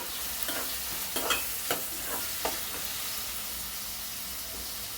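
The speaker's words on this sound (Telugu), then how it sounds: "ఉల్లిపాయ వేగింది కదండి, టమాటాలు వేసుకుందామండి." Onions and tomatoes fry in a pan under a constant steamy sizzle, with a few spoon scrapes early on that fade into steady hiss.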